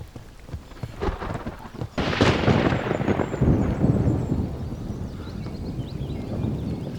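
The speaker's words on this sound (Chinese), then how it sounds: "怎么晴天打雷了？" A sudden crack of thunder bursts out of a clear sky, a loud sharp onset followed by a long deep rumble that rolls on and slowly fades, heard alone without voices.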